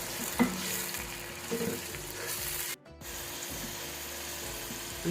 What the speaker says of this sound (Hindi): अब प्याज को अच्छी तरह फ्राई करेंगे।